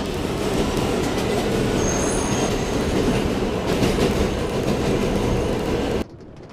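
A video-game commuter train on a transit line rumbles along at speed, loud and continuous, with wheel squeal and clattering track noise before the sound suddenly drops away near the end.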